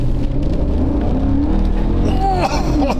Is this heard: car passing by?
yes